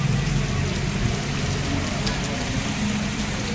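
Rain falls steadily and evenly as a dense wash of drops on surfaces, with a low rumble underneath and no speech.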